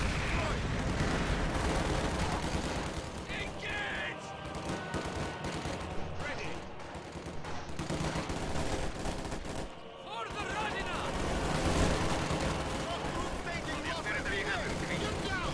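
Rapid PPSh submachine gun bursts crackle through a busy video game battle among other gunfire and engine rumble, dense and continuous throughout, with a commentator talking over the action.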